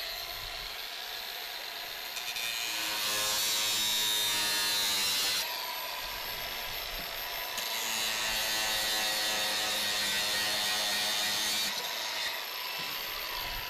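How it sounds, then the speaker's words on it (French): An angle grinder cuts an EPDM rubber roof drain piece to size over a block of wood, a loud, steady abrasive whine running the whole time with brief dips in intensity. "Nous reportons cette distance sur notre pièce d'évacuation que nous meulons sur mesure avec la meule."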